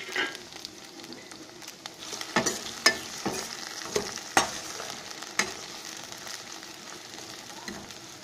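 A large chopped tomato sautéing in a pan for potato kulambu, a steady close sizzle broken by several sharp stirring scrapes and clinks of a spoon against the pan.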